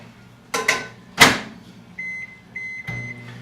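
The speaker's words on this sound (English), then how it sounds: "We're going to soften it up a little bit in the microwave." A microwave oven softening butter runs with a steady hum and a faint tone, after a couple of door or button clunks, with a beep near the end.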